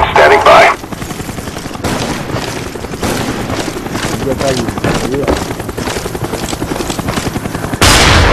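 An enemy Cobra attack helicopter in a multiplayer shooter game thrums with a steady, loud rotor chop. Rapid bursts of gunfire crackle over it, and a short loud blast sits at each end.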